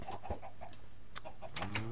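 Video game chickens cluck in short, faint bursts at close range, a few scattered calls over a quiet background.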